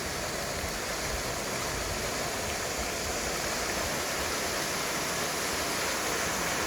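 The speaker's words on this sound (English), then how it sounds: "Even better, because I got this extra little waterfall down here." A small waterfall at an old mineral spring along a creek, a steady, dense rush of falling water heard close and continuous with no breaks.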